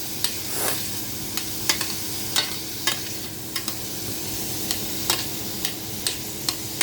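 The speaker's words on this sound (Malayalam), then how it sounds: "അപ്പം ഇതൊന്ന് ജസ്റ്റ് ഒന്ന് സോട്ട് ചെയ്തെടുക്കുക" Salad ingredients sauté in a pan with a soft continuous sizzle, punctuated by regular sharp taps and scrapes of a spatula stirring them, close up with no voices.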